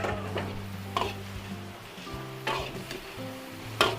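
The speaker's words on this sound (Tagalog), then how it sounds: "Yung pong ating atay balunan, igisa natin." Chicken liver and gizzard sauté in a hot pan for a fiesta dish, a steady sizzle running throughout with a few sharper scraping stirs of a utensil against the pan.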